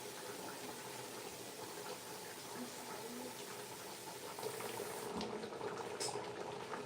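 Water is poured into a cooking pot for an Azorean octopus stew, a steady liquid rush and splash filling the pot continuously, moderately close, with faint kitchen clatter and no talk.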